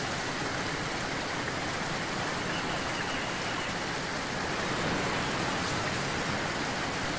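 Steady, dense rush of falling water from a waterfall seen ahead on a forest trail, a continuous broadband roar holding at an even level throughout with no voices.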